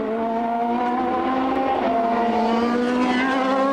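Formula 3000 race cars at San Marino, among them Bourdais's Supernova car, scream past in a continuous high-pitched engine howl with steady tonal whine, loud and sustained throughout with no talk.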